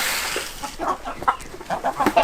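Chickens cluck softly in a farmyard, with short, scattered clucks and chirpy calls in irregular bursts, fairly near and moderately quiet, without talk.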